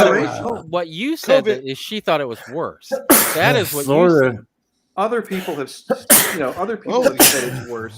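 A sharp sneeze bursts out amid ongoing conversation, with several people talking closely before and after it.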